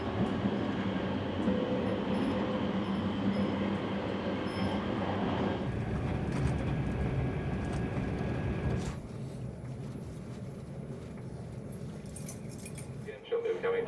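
A passenger train rolls through the Australian outback with a steady loud rumble and rattling, plus clinking and jangling inside the carriage, and the noise drops partway through.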